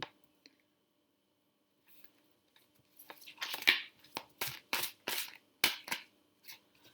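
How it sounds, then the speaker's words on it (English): Large tarot cards shuffled by hand, heard close and quiet: a near-silent start with a few faint ticks, then a run of sharp riffling bursts in quick succession. "Let me just shuffle them for a bit longer."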